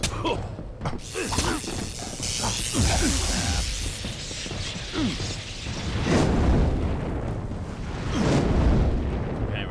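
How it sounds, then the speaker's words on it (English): Explosions in the video game Kingdoms of Amalur Re-Reckoning, a loud sustained roar of blasts and crackling debris with rumbling surges rising and falling over several seconds. "Explode."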